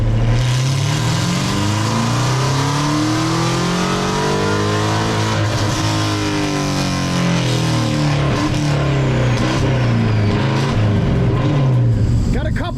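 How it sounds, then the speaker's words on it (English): A Chevrolet Camaro ZL1 engine revs hard through a dyno pull, its loud, sustained roar rising and falling in pitch across the run with no break. "this is gonna be our final pull of the day"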